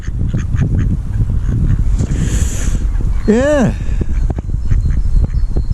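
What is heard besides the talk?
ducks quacking at a lake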